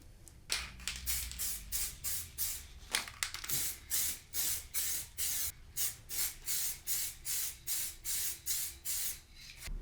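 Plasti Dip aerosol spray goes on in a heavier coat: a long run of short, regular hissing bursts, some fifteen evenly spaced pulses, close to the microphone and fairly quiet, with brief pauses between them.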